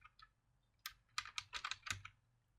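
Quiet keystrokes on a computer keyboard type out a function block name in a PLC programming session, a few scattered taps followed by a quick cluster of clicks, close and faint.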